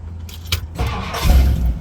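On a 1964 Ford Galaxie 500 convertible with new plugs and wires, close key jangling and clicks are followed by the starter engaging and the engine turning over into a rough, rising rumble.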